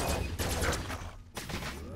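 Rapid bursts of gunfire from a sci-fi shooter in the Farpoint PSVR game, dense and continuous with a brief pause, heard close with no talk.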